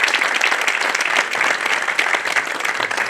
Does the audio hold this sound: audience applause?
yes